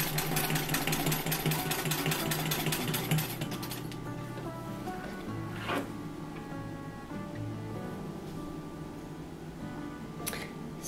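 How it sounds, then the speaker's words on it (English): A domestic sewing machine stitches free motion quilting on a quilted skirt, its steady mechanical whirr running loud for about four seconds, then continuing more quietly with intermittent ticking and a few short sharp clicks. "you don't need a high-tech specialized machine for what they call free motion quilting"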